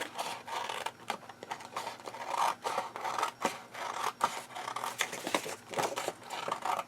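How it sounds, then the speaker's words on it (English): Scissors snip through excess material in a quick, uneven series of close crisp cuts and rasping slices, with no talking. "I'm just going to cut off"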